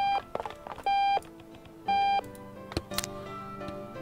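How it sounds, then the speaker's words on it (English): An alarm in the video game Octodad beeps in steady repeated electronic tones, three clear bursts about a second apart, mixed with clattering game sounds and clicks. "That's not what's making the alarm sound?"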